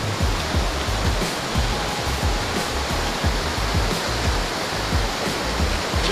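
Swift, heavy rushing river at Meratus, a loud continuous broadband roar of fast water with constant churning and no voices.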